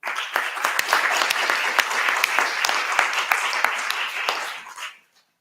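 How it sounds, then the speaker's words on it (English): A conference audience applauds at a final project event, many hands clapping in a dense, sustained burst for about five seconds before it stops abruptly, with no voices above it. "I just want to ask you a big applause for them."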